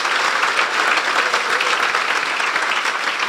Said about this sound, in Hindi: और तालियां बजा दे अपने लिए